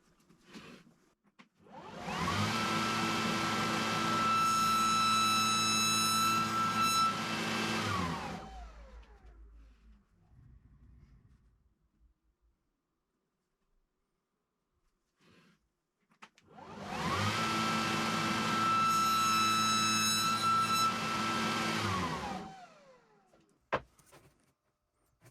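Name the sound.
Festool saw with wide kerf blade cutting a test notch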